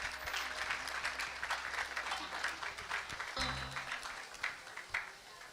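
Wedding ceremony audience applauding in a sustained wash of clapping, steady and fairly distant, fading slightly toward the end.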